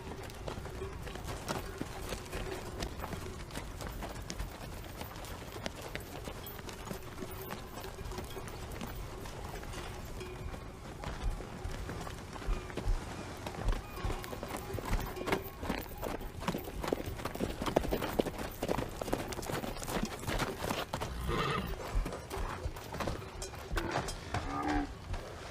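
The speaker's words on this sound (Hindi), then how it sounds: "इस वीराने में भटकता घोड़ा कैसे आ गया?" A lone horse wandering through empty wilderness without its rider, with soft hoof clops and animal calls over a steady outdoor hum, and no voices.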